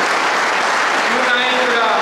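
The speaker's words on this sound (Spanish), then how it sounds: "Por eso te brindamos un fuerte aplauso" Audience applause at a Bernal forum on work and economy, a dense steady wash of clapping throughout with faint voices mixed in.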